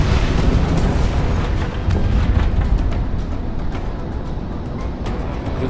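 A missile launch and explosion in the flight game Project Wingman, heard as a dense, roaring rumble that sustains loudly throughout and eases slightly toward the end, with no voices.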